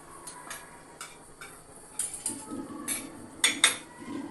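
Crushed roasted peanut powder mixed with salt in a bowl, a spoon clinking and scraping against the side in a few separate taps and strokes, growing slightly louder toward the end, with no talking.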